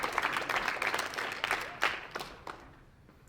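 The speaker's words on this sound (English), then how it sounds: "let's give one more round of applause to our city champions girls basketball team" Applause for a city champion girls basketball team at an elementary school winter sports awards ceremony, a crowd clapping steadily with scattered sharp claps before it thins out and fades toward the end.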